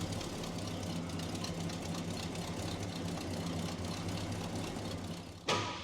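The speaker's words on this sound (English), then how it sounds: "Wanted to start it for you so you could hear it running and stuff." A 1967 Ford F100 pickup engine idles in a low, steady rumble with a faint knocking rhythm. It sounds moderately close and runs alone until a short bump near the end.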